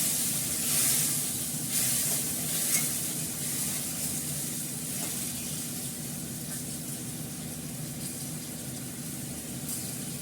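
A little water hitting a hot cooking pot sets up a broad hissing sizzle, strongest in the first few seconds and then easing into a steady bubbling fry, close and without voices.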